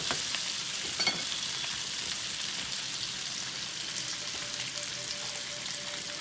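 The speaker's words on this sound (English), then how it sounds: "You just want them to get, the onions to get caramelized and your sausage to get pretty much kind of warmed up with a little bit of color." Onions and sausage fry in a pan with a steady, soft broadband sizzle throughout, a brief utensil clink near the start, and a faint tone later on; no one speaks.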